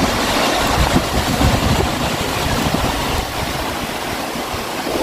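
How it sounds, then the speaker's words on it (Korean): Ocean waves wash onto the rocky shore beside the Haeundae Green Railway coastal trail near Mipo in Busan, a loud, steady rushing surge with no talk. "아, 파도 소리 좋습니다."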